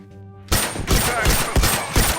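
Rapid, loud bursts of variable rifle gunfire in The Last of Us Factions multiplayer, several close, punchy shots in an uneven rhythm with ringing tails, fired in a quick string after a short quiet lead-in.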